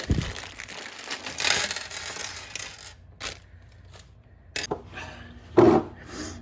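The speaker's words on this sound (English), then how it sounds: "I'm just going to clean that up a little bit with a wire brush" A wire brush scrubs a metal sway bar link rod during a DIY suspension repair, giving a close, raspy scraping for a few seconds, then scattered light clinks and one sharper knock.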